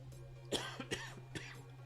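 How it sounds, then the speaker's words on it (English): A few sharp coughs, close by and fairly quiet, over a steady low hum. "watch me cough"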